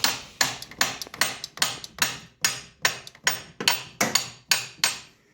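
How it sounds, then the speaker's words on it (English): A hammer taps sharply on a stuck metal part during 2004 Toyota Sienna timing work, about a dozen evenly spaced strikes, each close, crisp and ringing briefly. "you take a hammer, sometimes you can just tap on it a little bit and knock it loose"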